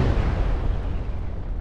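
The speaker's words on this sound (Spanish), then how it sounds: "Alejaros de esa explosión." Explosion in the military game ArmA 3, a loud rumbling blast with deep low-end roar that fades slowly over a second or two, heard alone without talk.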